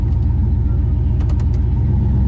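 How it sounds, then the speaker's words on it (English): A car engine idles and rumbles steadily up close while the vehicle is eased into a parking spot at a car event, a continuous low drone with a few faint clicks over it. "Just gonna park right, yeah. Nose it on up there."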